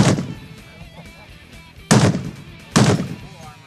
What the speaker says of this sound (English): when you shoot this 50 cal, it like explodes like air or pressure like up your nose